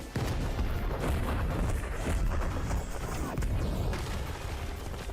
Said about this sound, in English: Okay. Explosion combo.